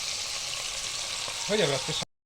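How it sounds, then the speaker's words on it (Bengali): Fish frying in hot oil, a steady close sizzle and hiss that fills the stretch before cutting off, with a brief voice rising near the end. "দেখো এক রাউন্ড মাছ ভাজা হচ্ছে"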